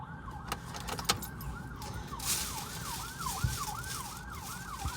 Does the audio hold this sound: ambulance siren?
yes